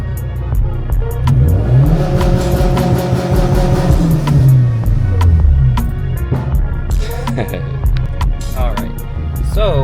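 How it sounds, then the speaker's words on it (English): Loud freeway car traffic roars steadily nearby as one vehicle sweeps past, its engine pitch climbing and falling, while a person talks over the noise. "I didn't realize how loud the freeway cars were going to be"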